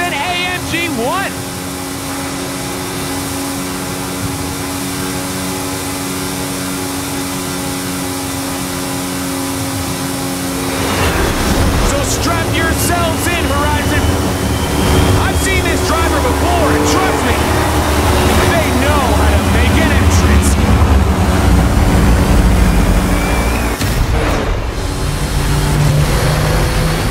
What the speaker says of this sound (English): that is the last inbound cargo flight racing neck and neck with an AMG 1